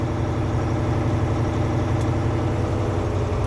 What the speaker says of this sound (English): I'm going to continue to step on the gas, building air pressure back into my air tanks.